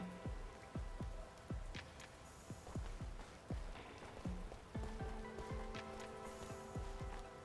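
Rain falls steadily in the video game Anno: Mutationem, a dense patter of drops striking surfaces, with sharp repeated percussive hits and a low sustained tone running beneath.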